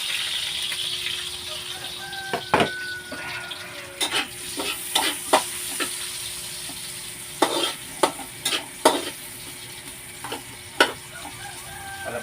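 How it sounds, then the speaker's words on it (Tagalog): Garlic, onion and ginger sautéing in a heated wok-style pan for ginataang gabi, a continuous sizzle broken by repeated sharp clinks and scrapes of a utensil stirring against the metal, no talk. "Magpainit na tayo ng kawali at ilalagay na natin itong bawang, sibuyas, luya, pagsama-samahin na natin."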